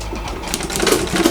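Sewing machine stitching a shirt cuff from bottom to top, a steady rapid mechanical whir with light ticking, close and continuous, no talking.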